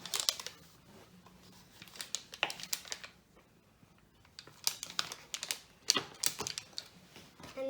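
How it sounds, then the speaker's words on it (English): A knife chops butter into small cubes for Scottish shortbread, with sharp irregular taps on a board in quick bursts separated by brief pauses, close and fairly crisp. "I'm going to just chop this up into little cubes."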